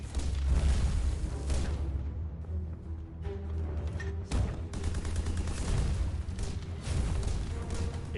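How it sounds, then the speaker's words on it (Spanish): Machine gun bursts and heavy gunfire with booming mortar-like blasts echo around a cliffside cave entrance in a mountain valley battle, loud rapid volleys punctuated by sharper impacts throughout. "Una ráfaga de ametralladora apunta a la entrada"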